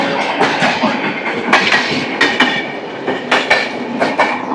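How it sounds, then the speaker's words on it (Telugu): The Puri–Tirupati Express rolls out of Annavaram station nearby with a loud, continuous rumble and repeated sharp clacks of wheels over rail joints. "ఇప్పుడు అనవరం స్టేషన్ నుంచి ఒక ట్రైన్ అయితే బయటకు వస్తుంది"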